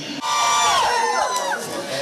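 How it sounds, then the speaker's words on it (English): Spectators in the stands at a track meet cheer and shout as parish athletes cross the finish line, a loud, continuous crowd roar that swells and stays dense for two seconds. "give every single parish and every single athlete, when they come across the finish line, a round of applause"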